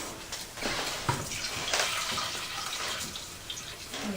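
Cooking liquid flavored with onions, parsley and thyme pours and splashes out of a pan as it is drained, a steady close trickle of running liquid lasting a few seconds with no talk.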